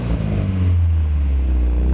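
Car with a modified exhaust roaring as the engine revs, a loud deep rumble swelling up after a brief clatter and holding steady, close and alone without talk.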